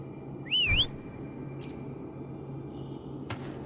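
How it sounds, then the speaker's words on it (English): A video game character in Wuthering Waves gives a single short rising-and-falling whistle, clear and close, followed by faint soft game sounds over a quiet ambient background. "Try whistling."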